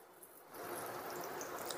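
Chicken pieces shallow frying in oil in a wok over a low flame for crispy fried chicken. A soft, steady sizzle rises after a brief quiet start, faint and continuous with no voices.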